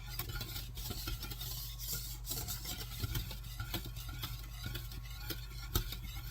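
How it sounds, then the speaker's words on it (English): Chocolate pudding stirred fast in a pot: a quiet, continuous rasping scrape of a utensil against the pan with a steady rubbing rhythm over a low hum. "I'm kind of stirring it fast to kind of get some air in there without splattering"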